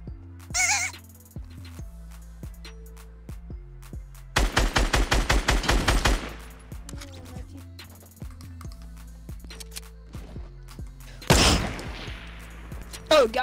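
Gunfire in a Fortnite duos match: a dense loud volley of rapid shots in the middle, another burst later, with quieter scattered game sounds around them.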